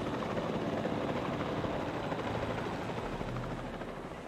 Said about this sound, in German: Hier landet jetzt gerade der Heli.